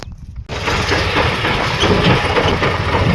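A tractor engine idles with a low, steady rumble after a brief quieter moment at the start, close and loud throughout, on a farm with a load of fodder for cattle.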